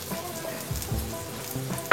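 Pieces of raw mango fry in oil in a pan, giving a soft, steady sizzle with faint stirring scrapes throughout and no talking.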